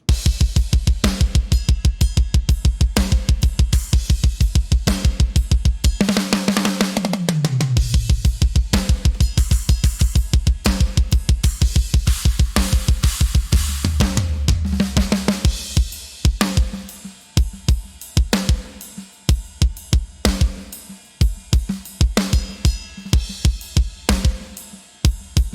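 A heavily processed drum kit from the Deviant Drums plugin plays a fast, dense groove with punchy kick and snare, cymbal wash, and a brief tom fill around the middle, loud and alone, thinning toward the end.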